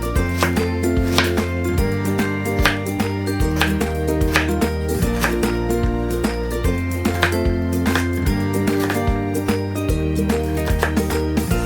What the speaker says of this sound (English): now let's cut the celery.